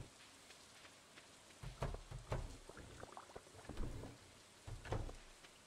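Soft rain in the video game Stardew Valley patters steadily, faint and close, with a few louder drips and splashes now and then.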